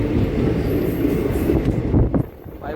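The 07034 Mysuru–Kakinada special train departs Nadikudi Junction with a loud, steady low rumble of rolling railcars heard from on board, easing slightly toward the end.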